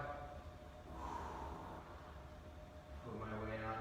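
An audible breath out during a warm-up stretch, a close, soft exhale with snorting, gasping breath noise, fairly quiet over a few seconds with a voice-like hum underneath.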